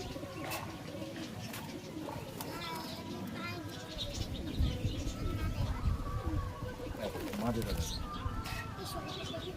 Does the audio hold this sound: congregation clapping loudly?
no